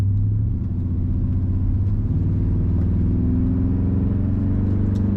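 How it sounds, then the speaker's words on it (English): A 1998 Chevrolet K1500 Silverado pickup's engine rumbles steadily and loud from close by, a deep continuous idle-to-cruise drone with no talking. "Nice rumble from that engine."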